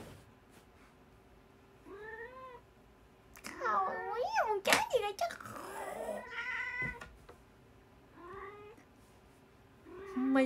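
A cat meows and caterwauls repeatedly at close range in a quiet room, with rising and falling cries in several bursts, mixed with a person talking softly.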